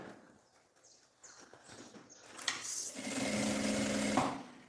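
A sewing machine stitches a bag seam, starting after a quiet stretch of faint handling noises and then running in a steady, moderately loud whir for about a second and a half before stopping.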